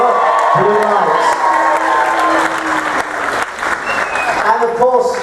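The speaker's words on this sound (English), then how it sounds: "Give yourselves a big round of applause." An audience at a game show on a cruise ship claps vigorously with some cheering and whoops, a voice speaking faintly over the sustained, loud applause.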